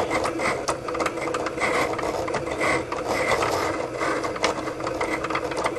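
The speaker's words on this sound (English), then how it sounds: "It's cutting Pinocchio." A Cricut Explore cutting machine cuts out a printed image, its blade carriage clicking and whirring in quick mechanical bursts, close and continuous.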